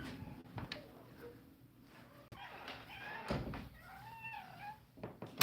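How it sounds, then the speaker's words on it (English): A mother cat with her kittens meows several times with rising, wavering cries, close by, amid rustling and a couple of soft knocks. "Now here's Gabby and her kittens"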